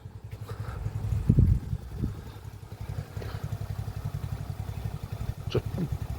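A Yamaha YBR motorcycle engine idles nearby, quietly, with a low, steady putter and rhythmic chugging, a brief clatter early on, no talking.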